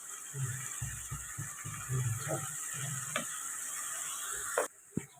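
Tomato masala for an egg curry fries in a pan, with a soft steady sizzle and scraping stirring strokes in an uneven rhythm, then a couple of sharp clanks near the end.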